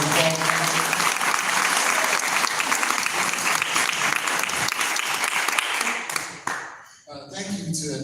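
Summit audience at a men's wellness event applauds a panel with loud, sustained clapping and cheering for about six seconds, fading and breaking off near the end with a few scattered claps after.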